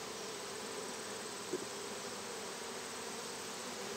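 Honeybees swarming over an opened hive during an inspection, a steady close drone of many wings humming together, with one brief louder buzz passing near the mic partway through.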